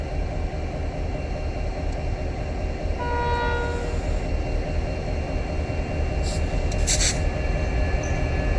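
A Pacific National freight train rumbles steadily past near Monarto, South Australia, with a brief horn blast in the middle and bright wheel squeal toward the end, loud and close throughout.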